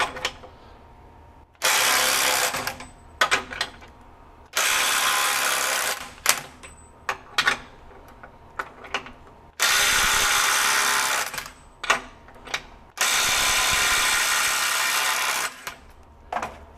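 A Bosch Freak GDX18V-1860C impact driver works on a nut in four loud bursts of rapid hammering, each lasting a couple of seconds and separated by short pauses with small clicks and handling noise.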